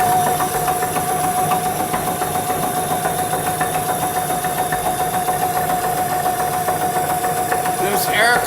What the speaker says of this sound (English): Here's the air compressor.